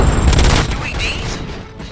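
Gunfire erupts in the RoboCop Rogue City video game, a dense burst of booming shots crowding the first second, then trailing off into quieter rumble and background game sound.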